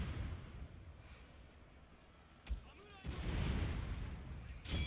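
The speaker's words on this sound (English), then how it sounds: "Apparently firing cannons at each other." Cannons firing in a Napoleonic-style line battle in a video game, heard as a few dull booms over a rumbling battlefield din, with a sharper blast near the end and a voice talking underneath.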